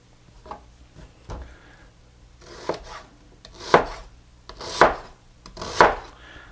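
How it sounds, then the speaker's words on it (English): Knife roughly chopping vegetables on a cutting board for pork carnitas, a handful of separate thuds that build to three louder, evenly spaced chops, close up with no voices. "A rough chop is fine"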